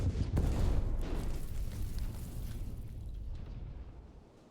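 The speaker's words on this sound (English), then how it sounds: "Paradise Blossom has been torpedoed and is on fire" A torpedo strikes the ship Paradise Blossom in a destroyer naval battle in heavy fog, setting it on fire: a deep, heavy explosion with a sharp initial crack, then a long rumbling roar that slowly fades.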